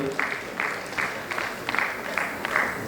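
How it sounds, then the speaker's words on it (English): Applause from the audience at a medical college convocation for a surgery professor, heard as a short stretch of clapping with a regular pulsing rhythm that repeats several times over a few seconds. "Please have a round of applause for him."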